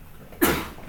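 A single sharp sneeze bursts out once partway through, fairly close and loud against the quiet of an engineering lecture room, then fades quickly.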